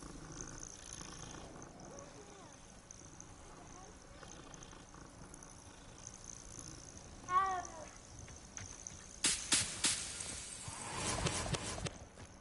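A cat in the video game Hogwarts Legacy gives a short meow partway through, over soft game ambience and purring, followed by louder scuffing game sounds.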